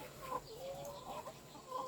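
Laying hens in a semi-intensive egg farm cluck steadily at close range, with overlapping short calls and a few louder bursts standing out over a constant busy flock murmur.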